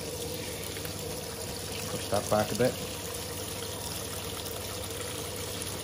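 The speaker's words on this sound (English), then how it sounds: "I need to wait for the hot water to come through" Water runs steadily from a garden hose through a Giantex EP23113GB portable water heater, a constant hiss under a brief spoken remark.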